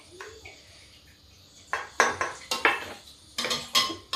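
A ladle stirs water chestnut curry in a metal pan on a gas stove, making a run of sharp clinks and scrapes in quick bursts, close and fairly loud against a quiet kitchen.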